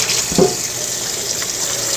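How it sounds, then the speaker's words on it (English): A kitchen tap running for a quick hand wash, a steady close hiss of flowing water with a brief splash of hands near the start and no one talking. "I'm going to wash my hands very quickly"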